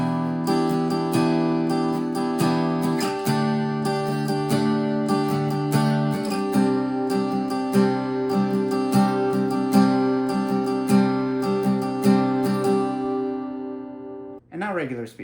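A song's chord progression, strummed slowly on guitar in a steady rhythm of accented strokes over about fifteen seconds, close and clear, ending with a brief string squeak.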